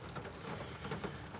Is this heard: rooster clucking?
no